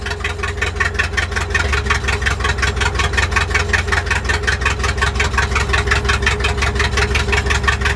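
The engine of a Ford F600 truck running steadily close by, a loud continuous low rumble with an even, rapid pulsing firing rhythm and no talk over it.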